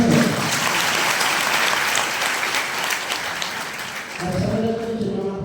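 Crowd at an Independence Day poetry recital at Meerut College applauds loudly and steadily, then the clapping thins out and a voice starts talking near the end.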